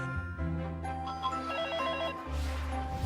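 A home telephone rings in a radio or TV advert, a bright electronic ring in short repeated bursts, loud and close, with no talk over it.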